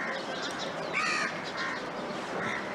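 Outdoors in an open natural setting, a crow gives a few raspy caws spaced apart over a constant background hiss, fairly distant and mid-level in loudness.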